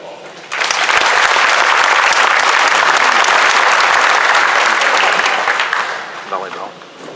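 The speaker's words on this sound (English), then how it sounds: "Let's give them a round of applause." A crowd at a school graduation ceremony applauds a middle school girls' volleyball team, a loud, sustained wash of clapping that swells in quickly, holds for several seconds and tapers off near the end.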